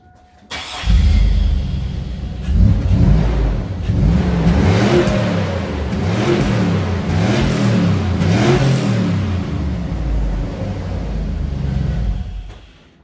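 A shop truck with 290s, a stainless muffler and side pipes revs hard while still a little cold, its loud, close exhaust rising and falling in waves of throttle for several seconds with no voices.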